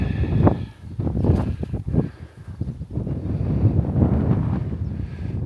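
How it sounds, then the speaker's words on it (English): Wind gusting against the microphone on a coastal walk along the Cleveland Way by a golf course, loud rumbling buffets that rise and fall, steady and close. "Wind to blow you about."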